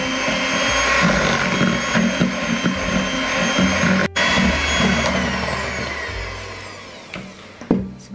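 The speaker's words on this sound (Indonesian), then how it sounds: "Masukkan kuning telurnya. Lalu kita akan mixer cuma sampai tercampur saja." An electric hand mixer at low speed blends egg yolks into cookie dough for brownie-style nastar cookies, a steady whirring motor drone that carries throughout, close and fairly loud, with a brief cutout midway and small knocks near the end.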